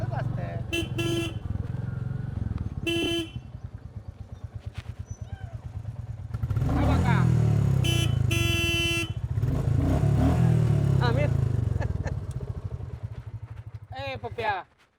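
A motor vehicle passes along a village road, its engine noise swelling loud mid-way, with short horn toots and people talking over it.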